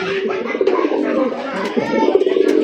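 A pigeon coos in low, throaty, rolling bursts at close range, while someone talks over the calls.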